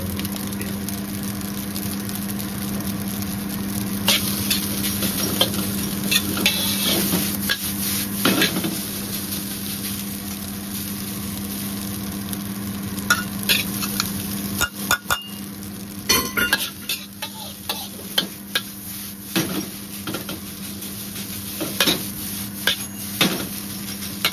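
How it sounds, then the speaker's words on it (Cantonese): Beef fried rice with beans stir-fried in a pan over a steady sizzle and hum, with repeated metallic scrapes, clinks and clacks of the utensil against the pan, close and without talk. "你一路咁炒開個飯先，啲豆啦"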